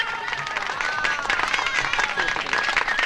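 At a stage variety show, a crowd claps steadily under a loud, continuous voice, the applause forming a dense patter through the whole stretch.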